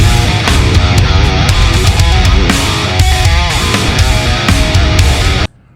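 Dense, heavily distorted electric guitar chugs and riffs through a Fortin Nameless amp simulator preset, loud and continuous for several seconds, then cut off abruptly into silence.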